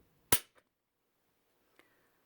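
A Glock 45 trigger snaps sharply once as it is pulled against a trigger gauge, a loud click followed by a softer tick and, a second later, a faint light tap.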